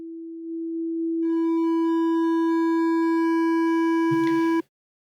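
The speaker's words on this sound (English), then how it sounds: "We're gonna play our sine wave, and I'm gonna turn up this gain into the clipper" A steady pure sine wave tone grows louder as gain is pushed into a clipper, gaining a ladder of harsh overtones as it distorts, then bursts into a brief noisy crunch before cutting off abruptly.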